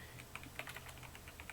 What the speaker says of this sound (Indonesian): Jadi langsung saja saya ketik ya di sini ya.